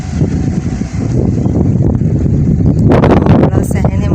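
Wind gusts across a large open mosque courtyard at Tuba Masjid in Karachi, a constant low rumbling buffet close to the microphone, with a voice talking over it.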